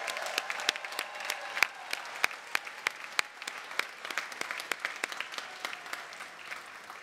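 Convocation audience applauding university staff: many hands clapping at a moderate, even level, with individual sharp claps standing out through seven seconds of steady applause in a large hall.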